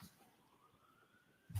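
A faint siren wails in the distance outside a courtroom, a thin rising tone over a quiet room, ending in a brief bump.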